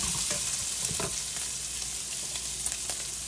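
Reaper pepper powder fries in bacon grease in a pan for breakfast burritos, a steady close sizzle with a few soft stirring scrapes and no talk.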